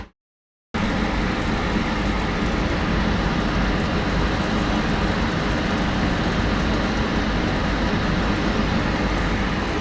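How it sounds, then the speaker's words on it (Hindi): Small exhaust fan running inside the toilet of a passenger MEMU train, a steady, loud whirring drone mixed with train rumble, continuous throughout after a brief silent start. "ये पंखे, छोटे से पंखे की है।"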